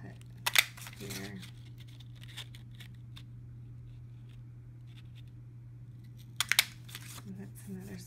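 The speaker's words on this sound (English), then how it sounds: "So let's cut this. Let's cut here." Scissors snipping paper circles, heard as two brief clusters of crisp cuts several seconds apart over a steady low hum.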